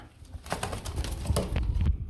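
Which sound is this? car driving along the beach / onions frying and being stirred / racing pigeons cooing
racing pigeons cooing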